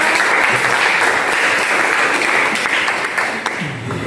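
A high school economics class applauds a student presentation group, giving a loud, continuous wash of many hands clapping close by that holds steady for about four seconds before easing slightly.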